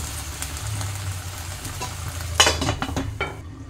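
Papaya fish curry with cumin simmering in a covered pan, a steady low bubbling and sizzle running throughout, with a few louder clatters of a lid or utensil near the end.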